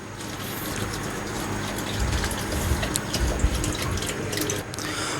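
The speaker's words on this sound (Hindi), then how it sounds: "अब हम इसमें दोबारा पानी शामिल करेंगे" Water runs into a pot of washed rice for chicken dum biryani, a steady splashing pour with small drips and clinks at close range.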